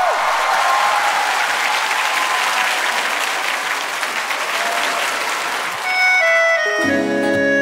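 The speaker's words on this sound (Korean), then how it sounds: "다같이 박수 주세요." A studio audience on a Korean music show claps for an idol, a full, sustained round of applause that fades as a bright musical intro begins near the end.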